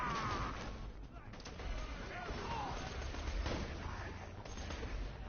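Gunfire in Borderlands, with a steady stream of muffled shots and booming impacts mixed under a voice talking, moderately loud and continuous.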